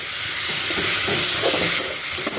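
Onion and tomato sautéing in a pan for Karaikudi-style vatral kuzhambu, a steady close hiss and sizzle with soft stirring scrapes throughout, no talking.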